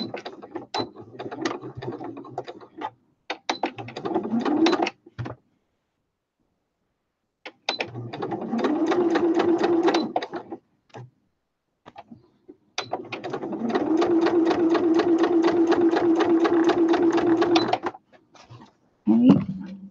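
A sewing machine stitches a snippet basket on a sewing runner, running in three sustained bursts with a steady mechanical whir and rapid needle rhythm, pausing between runs, close and fairly loud.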